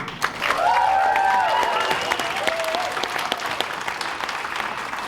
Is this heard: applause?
yes